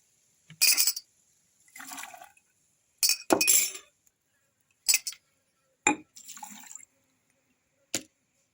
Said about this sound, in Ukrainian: Далі додаю оцет, це трошки менше як півстакана на кожну банку.